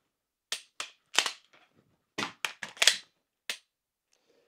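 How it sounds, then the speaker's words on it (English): Sharp metallic clicks and clacks from a pistol during dry-fire practice, a magazine being seated and the slide release dropping, arrive as about ten separate close snaps in uneven bursts with silence between. "I drop the slide release before the mag is fully seated in the gun"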